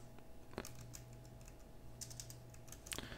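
Fingers type on a computer keyboard in a few short bursts of quiet clicks, close and soft, with pauses between them.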